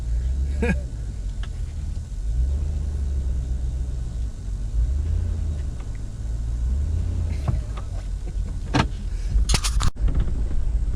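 A Honda Accord engine rumbles steadily at close range with low road noise, a few clicks and knocks, and a sharp thump near the end.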